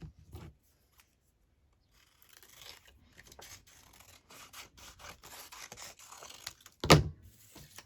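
Small scissors snipping paper for a shabby-style journal page with a window, a quick run of close, crisp cuts and rustles after a brief pause, ending in a louder snip or handling sound.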